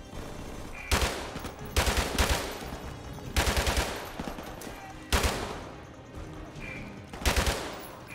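Shotgun blasts from enemies in Call of Duty 4: Modern Warfare Remastered, about six loud booming shots with distinct gaps between them, each followed by a brief ringing tail.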